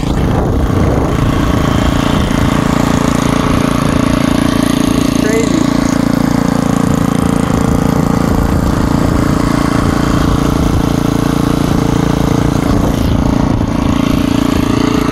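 Old Merry Tiller chain-drive garden tiller with a replaced magneto, its small gasoline engine running steadily and loud at close range, a continuous low rumbling putter throughout.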